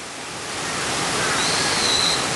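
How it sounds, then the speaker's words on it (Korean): Steady, broadband rush of a flowing stream beside the Beomeosa bypass road in a water-source protection area, constant and fairly close, swelling slightly, with a faint bird call high above it. "물소리가 들리십니까?"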